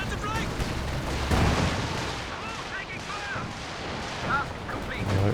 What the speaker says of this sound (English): Another walking Stuka barrage.